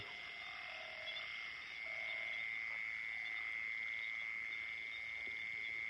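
Frogs croaking at night in a rice paddy, a steady high-pitched chorus of calls droning continuously and fairly faintly across the whole stretch, with lower croaks pulsing beneath it.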